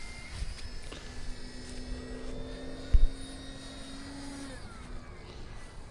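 An E-flite Night Timber RC airplane takes off: its electric motor whines steadily with a rising pitch against outdoor background noise, punctuated by a brief thump partway through.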